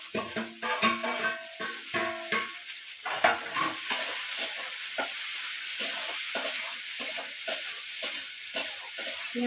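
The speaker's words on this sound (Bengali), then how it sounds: "পেঁয়াজগুলো ভাজা হয়ে যাবে," Onions sizzling in a pan after garlic in a home kitchen, a steady soft hiss broken by repeated clinks and scrapes of stirring, close by with no talk.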